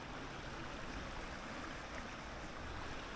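A small river in a landscape where fish are caught, its flowing water a constant broadband rush at steady, moderate volume with no distinct splashes and nobody talking.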